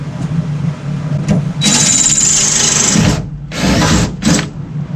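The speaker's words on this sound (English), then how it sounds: "we're going to drill a hole right here" A power drill with a dull bit bores into a truck floor during a 5-ton crew cab build, giving loud close whining bursts of drilling with short pauses between them.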